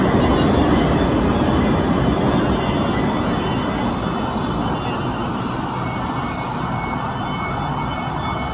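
An LRT-1 light rail train passes near the SM North EDSA area, a loud, steady rumble of wheels on rail that fades slightly over the seconds, with no talk.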